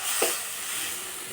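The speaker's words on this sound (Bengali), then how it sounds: "মশলা কষানো হয়ে গেছে, এই যে মশলা থেকে তেল ছেড়ে গেছে" Spice paste for a bata fish curry fries in hot oil, giving a steady close sizzle with a soft stir scrape near the start.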